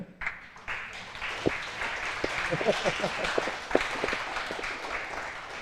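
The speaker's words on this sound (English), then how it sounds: "If we can get a round of applause for the people in this corner." A round of applause from an audience for helpers in one corner of a room at a prosthetics presentation; scattered claps build into moderate steady clapping, not very loud.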